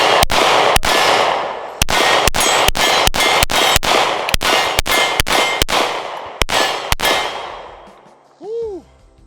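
Rapid rhythmic shots from an S&W Shield X pistol with an extended magazine, about fifteen sharp, loud reports in quick strings with brief pauses, followed by a short whoop.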